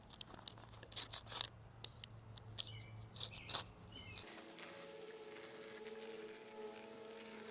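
Scissors trim excess material from a heavy-duty truck drawer setup, giving a cluster of quiet, quick snipping and rustling cuts for about four seconds before a steady low hum takes over.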